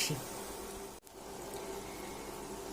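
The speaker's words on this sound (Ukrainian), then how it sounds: "Потрібно, щоб була розігріта наша олія. Смажимо далі." Cheese doughnut balls fry in hot oil in a pan, giving a continuous close sizzle and bubbling hiss that breaks off for a moment near the start before resuming.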